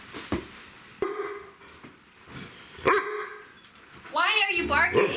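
A dog barks several times in sharp, separate bursts close by, then lets out higher yelping barks; a person talks between them.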